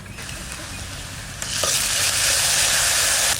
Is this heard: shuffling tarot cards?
no